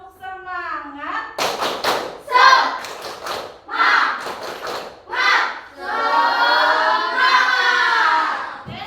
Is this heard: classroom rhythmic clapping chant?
yes